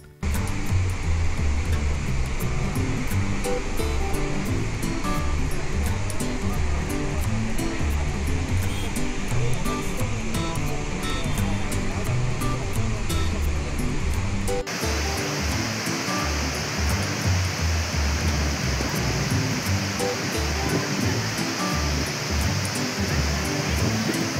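Rushing water roars continuously after heavy rain, a dense, loud, broadband torrent like a waterfall or swollen stream, steady throughout with a slight shift in tone midway; no talk.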